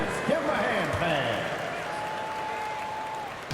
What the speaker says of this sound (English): Another cheer for your Young Bucks dancers. Give them a hand,